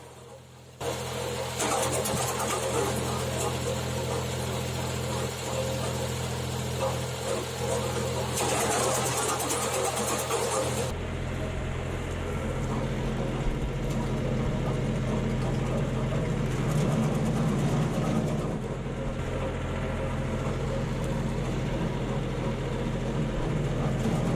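Steady machine drone of an Arpal AM-120TR tractor-driven branch chipper running continuously at 540 rpm, with a shift in pitch and texture partway through as it shreds branches.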